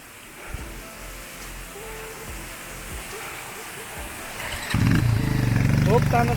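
A motorcycle labours uphill, its engine straining with a low, uneven rumble that stays in the background at first, then surges noticeably louder and rougher toward the end as it struggles to pull.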